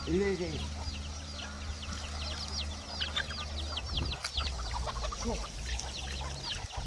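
Native country chickens on a small farm cluck and chatter continuously in many quick, overlapping calls at close range, with a voice faintly heard at times.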